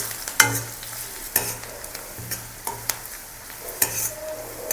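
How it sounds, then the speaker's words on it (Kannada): Medium-sized onion frying in oil in a pan while being stirred until brown, a soft continuous sizzle broken by a run of sharp scraping stirs from a spoon against the pan, close and loud. "ಅದಕ್ಕೆ ಮೀಡಿಯಮ್ ಸೈಜ್ ಈರುಳ್ಳಿ ಹಾಕ್ತಿದ್ದೀನಿ. ಸ್ವಲ್ಪ ಬ್ರೌನ್ ಆಗೋವರೆಗೂ ಇದನ್ನು ಕೈ ಆಡಿಸ್ತಾ ಇರಿ."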